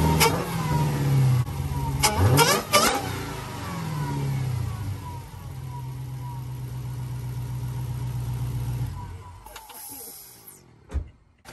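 A 2019 Dodge Charger Hellcat fitted with a JLT cold air intake revs up several times, its close engine roar carrying a whine that climbs and falls with each rev before settling into a steady hold and dropping off.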